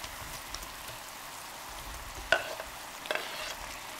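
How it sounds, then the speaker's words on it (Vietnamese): Quiet, steady sizzling and bubbling of a simmering pan of lemongrass-chili sauce, with a couple of soft clinks as fried tofu is added. "mở lửa trở lại cho hỗn hợp sôi lên, rồi mình bắt đầu cho đậu hũ đã chiên lúc nãy vào luôn"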